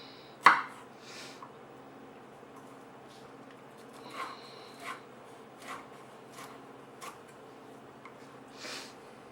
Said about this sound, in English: just cut this into nice little strips